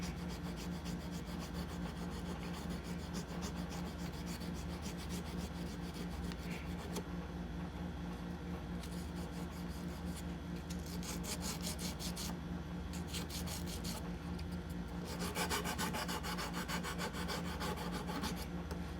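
Sandpaper rubs by hand over a chef's knife handle, giving a close, steady rasping scratch in repeated strokes that speed up toward the end.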